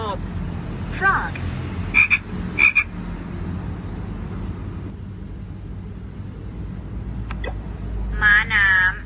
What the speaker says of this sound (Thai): กบ frog